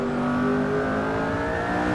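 A McLaren P1 on the Zwartkops circuit in Assetto Corsa holds a steady, loud engine drone with a high harmonic whine for two seconds, sustained at near-constant revs with no talk.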